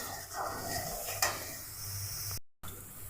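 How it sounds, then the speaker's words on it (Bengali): Spice paste of turmeric and chili being stirred in a pan, a soft steady sizzle with scraping of a spoon against the metal, moderately close, with a brief dropout near the end. "এখন মশলাটা ভালো করে কষিয়ে নিব।"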